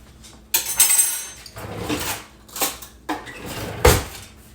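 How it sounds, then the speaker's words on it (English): Spoon pulled out of a dish of home-cooked food with sesame seeds, a series of close, scraping clatters and knocks in several separate bursts, with no talk. "All right, let me pull this spoon out."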